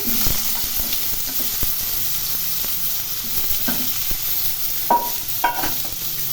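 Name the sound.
frying sliced potatoes in a pan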